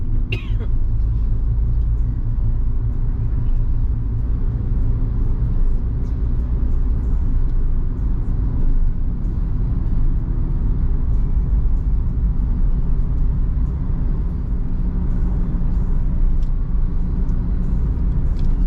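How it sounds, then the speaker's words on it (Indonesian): Steady low road rumble inside a moving Toyota Avanza Veloz 1.3 manual on a smooth road, with a dull repetitive thumping from the wheels running underneath throughout. "suara buk sangat terasa saat di jalan yang mulus seperti ini"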